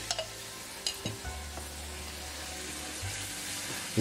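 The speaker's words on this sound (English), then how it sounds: "Add a small amount of the garlic paste." Garlic paste sizzles in a pan with a soft, steady crackle and a few clinks of a stirring utensil near the start, close up and fairly quiet.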